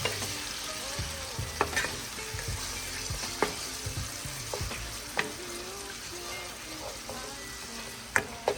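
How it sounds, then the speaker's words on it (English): Lobster tail and scampi sauce stirred in a pan, a quiet bubbling sizzle with periodic utensil taps and scrapes against the pan, close by and without talking. "Stir it up."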